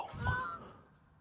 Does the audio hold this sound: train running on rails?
no